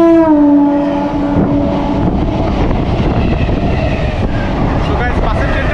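A local train on the Sealdah–Budge Budge line heard from on board: a loud, continuous rolling rumble, with a brief tonal whine at the start.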